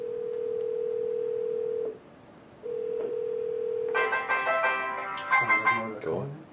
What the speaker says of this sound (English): instead of ringing my phone, my desk phone, it will ring my mobile phone.